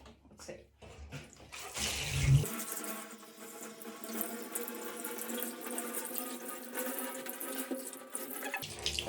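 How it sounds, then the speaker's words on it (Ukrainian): After a few handling noises, water starts pouring steadily over hair and keeps running, splashing close by with a constant hiss that fills the rest. "Перше, це я мочу волосся."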